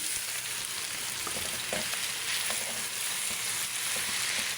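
Boiled pasta being stirred into sizzling fried meat in a pan, for an eggplant roll recipe: a steady, loud frying hiss with soft scraping stirs throughout, no talking.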